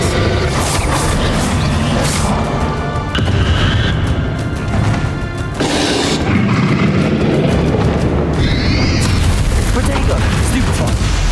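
Confringo and Bombarda spell blasts in the Hogwarts Legacy video game's final boss fight, a rapid string of booming explosions and crackling magical bursts, loud and close, overlapping with battle effects and shouted spell names.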